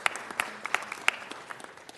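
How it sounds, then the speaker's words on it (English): Scattered, moderately distant clapping from attendees at a Los Angeles city council meeting, a brief uneven patter of individual claps over a hushed chamber. "A round of applause."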